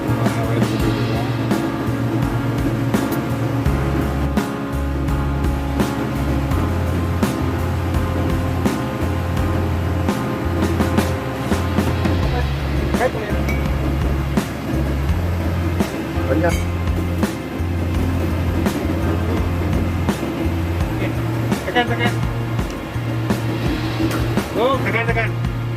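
A repaired electric chain hoist running under test, with a loud steady motor drone that pulses on and off in low bursts, under ongoing talk and occasional metallic clinks.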